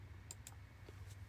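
A computer keyboard being typed on, a handful of soft, widely spaced key clicks, quiet and close over a low steady hum.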